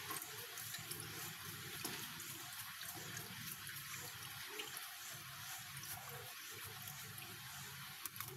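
Malunggay leaves being washed in water: a steady, close splashing and running-water wash that continues without pause, with no voices.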